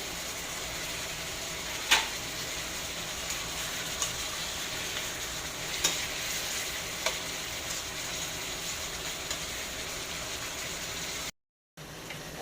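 Sliced hotdog fries in a pan for menudo, giving a steady, fairly loud sizzle with a few sharp clinks and scrapes of stirring. The sound cuts out briefly near the end and then resumes.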